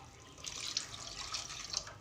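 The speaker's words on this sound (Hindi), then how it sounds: "बल्कि पहले मैं इसमें डाल रही हूँ पानी।" Water pours into a cooking pan while besan khandvi is being prepared, a soft splashing trickle that swells in small surges for about two seconds, fairly quiet and with no talk.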